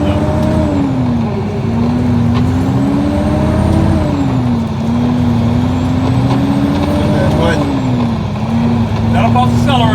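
A semi truck engine drones loudly in low gear during a ride along, its pitch rising and falling with throttle changes, heard from inside the cab with someone talking over it.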